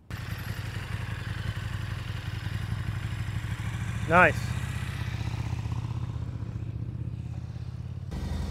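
Motorcycle engine during advanced slow-speed riding practice, a steady low idle-like rumble close by with a brief rising throttle blip midway; a voice speaks briefly over it.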